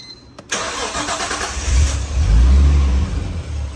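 A Nissan Skyline engine cranks and fires after an injector replacement, catching quickly and settling into a loud, close rumbling run with a rising rev.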